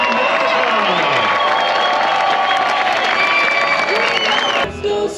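A crowd at the opening ceremony of the 2022 ISA World Surfing Games gives a standing ovation, with dense, sustained clapping and cheering that stays loud throughout and drops off abruptly near the end.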